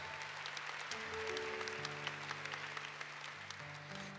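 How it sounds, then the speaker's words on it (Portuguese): Church congregation clapping after a Gospel reading at a Mass, faint and distant, steady applause under a sustained organ or keyboard chord. "Vamos aplaudir a palavra de Deus."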